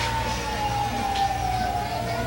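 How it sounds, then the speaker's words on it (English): Emergency vehicle sirens wail in the countryside, a steady distant tone sliding slowly downward over a low background rumble. "Sounds like sirens."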